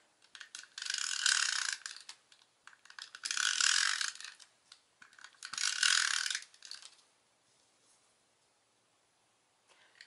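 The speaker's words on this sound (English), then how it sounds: "we want to put adhesive all along the back of this piece of cardstock" Adhesive being rolled onto the back of a piece of cardstock with a tape runner, making three separate bursts of close, dry ratcheting clicks, each about a second long, followed by near silence.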